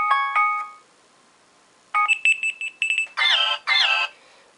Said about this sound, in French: Ringtone, ah oui, il y en a des nouvelles.